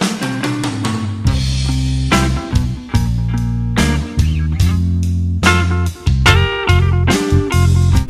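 Electric rhythm guitar tuned a half step down, playing a funky groove of percussive spanked chords each cut short by a mute, with bass-heavy accents in a steady, loud stop-start rhythm, no talking.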